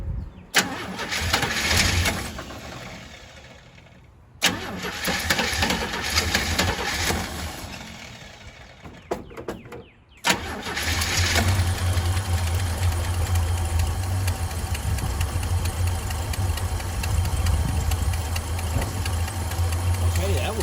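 A Chevy square body truck engine cranks and catches twice before a final start, then settles into a steady, loud idle, close to the microphone, with no talk over it.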